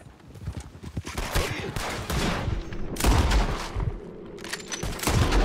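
Gunfire in Red Dead Redemption 2 rings out in repeated sharp volleys, close and loud, mixed with horse hooves and a whinny, while people talk over the shooting.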